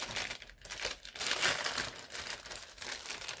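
A plastic postal bag holding a knife crinkles and crackles as it is opened, close and fairly quiet, with irregular bursts of rustling and no talk.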